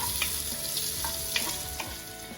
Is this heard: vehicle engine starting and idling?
no